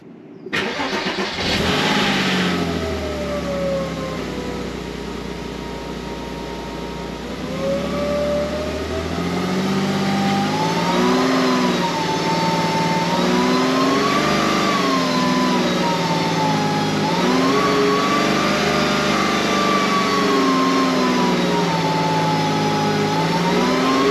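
A car engine cranks and catches, then runs steadily with rising and falling revs, loud and close, over a long stretch.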